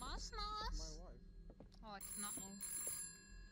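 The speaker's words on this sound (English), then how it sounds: "Getting a phone call." A telephone rings inside the VR Chat video game, a repeating electronic ring in short bursts while players talk over it.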